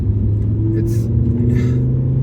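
A 2006 BMW M6 with its V10 engine runs with a loud, steady low rumble and strong harmonic drone, rising slightly in pitch as it revs.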